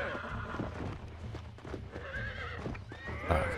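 A horse in the Red Dead Redemption video game gallops with steady clip-clopping hooves beneath a rumbling game soundscape, then lets out a clear, high neigh near the end, close and prominent.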